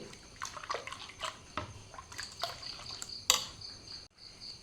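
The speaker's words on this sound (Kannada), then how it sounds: "ಇನ್ನು ಒಂದು ಸ್ವಲ್ಪ ನೀರು ಹಾಕ್ತೇನೆ." Water poured into thin rice batter for neer dosa, a quiet, close-up trickle and splash with small irregular drips and sloshes.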